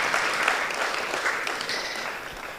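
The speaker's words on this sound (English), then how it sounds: "Please, a round of applause, Dr. Maxwell Lampo" Audience applause at a business forum in Accra for the introduced speaker Dr. Maxwell Lampo, a soft, even spread of many clapping hands heard moderately distant throughout, with no talk over it.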